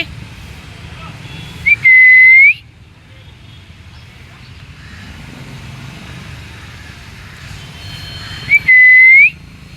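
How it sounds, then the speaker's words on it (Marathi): A person whistles to call animals beside a road, giving two short, loud, rising whistles several seconds apart over a low rumble of passing traffic. "शिट्टी वाजवली की लगेच ऐकतात"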